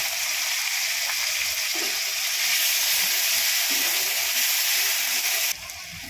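Ground ginger, onion, garlic and green chilli paste fries in a pan with fried onions for a jackfruit rezala, giving a loud, steady sizzle with faint scraping stirs underneath.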